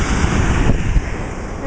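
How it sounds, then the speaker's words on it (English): Spray from a waterfall in Chile, a close, dense broadband hiss and rush of falling water, buffeted by gusts of wind noise on the microphone. "But yes, these are falls."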